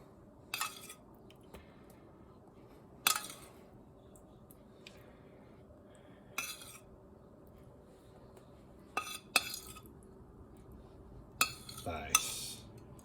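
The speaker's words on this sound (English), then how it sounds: "Mix that up a bit and evenly distribute the onions" Onion mix stirred into oil in a pan for a Sicilian pizza at a NYC pizzeria: quiet squishy stirring under a low background hum, punctuated by several sharp clinks of metal utensil against the pan at irregular intervals.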